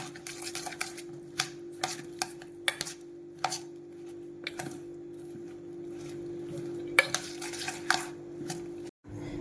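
Salad ingredients are tossed and mixed with salt and sugar in a bowl, giving soft irregular clinks and scrapes of a utensil against the dish over a faint steady background hum.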